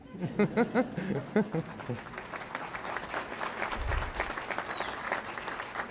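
An audience at a college presidential inauguration claps, opening with a few loud separate claps that swell into steady applause, with a speaker's voice over it at first.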